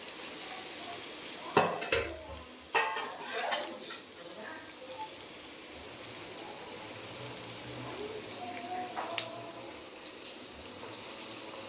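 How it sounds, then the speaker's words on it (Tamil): Onions sautéing in a pan for a fish roast, a soft steady sizzle under a few sharp clinks and scrapes of a stirring spoon against the pan, with brief low talk. "போட்டுக்கிட்டு வெங்காயத்தை வதக்கிடுவோம்."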